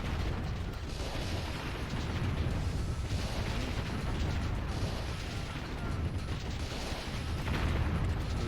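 Mortars bombard in the strategy video game Warzone 2100, a continuous, dense rumble of distant blasts and mechanical clatter holding at a moderate level throughout, with no voices.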